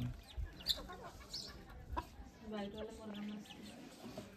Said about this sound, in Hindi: तर कोंबड्या आल्यात बाकीचे गहू खायला.